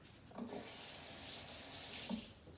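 Kitchen tap running steadily into a sink while fennel is washed under it, a soft continuous splashing flow with faint handling bumps, no talk.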